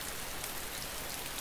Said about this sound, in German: Also der Regen ist heute ziemlich...